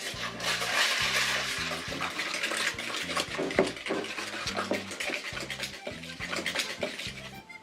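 A hand whisk beats egg yolks and sugar in a bowl for no-churn hokey pokey ice cream, in a beach house kitchen: a busy, rhythmic run of metallic clinks and scrapes, close and steady, with no talking.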